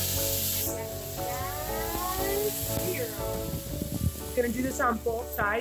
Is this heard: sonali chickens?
no